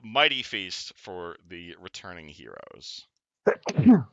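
A person speaks, then after a brief pause a sharp sneeze bursts out near the end.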